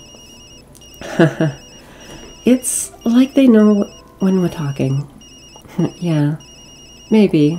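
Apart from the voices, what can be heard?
phone ringing in the video game Tokyo Dark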